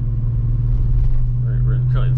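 A low, steady engine rumble from a Volkswagen Jetta VR6 wagon hums throughout, with a faint exhaust note and a voice speaking briefly over it near the end.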